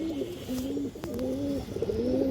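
Old-strain khaki pigeon cooing in a steady, repeating rhythm of low rolling coos, close and clear, over a faint hum of background noise.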